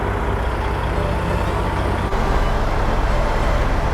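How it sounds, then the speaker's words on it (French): Several truck engines idle together in the heat to cool cabs without air conditioning while the trucks are held up by an accident, a steady, loud, low diesel rumble with no pauses. "on entend certains moteurs tourner. Pour refroidir les cabines"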